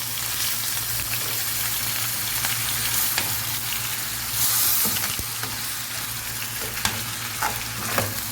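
Minced meat frying in a pot with steady, dense sizzling and occasional scrapes of a spoon as it is stirred, loud and continuous throughout.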